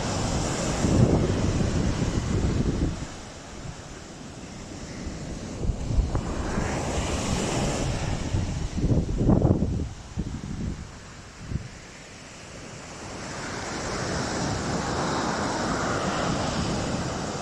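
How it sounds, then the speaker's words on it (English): Ocean surf at the beach in Nazaré, Portugal, with waves breaking on soft sand in broad roaring swells that rise and fall, mixed with gusty wind buffeting the microphone and no talk. "And the waves just dig in."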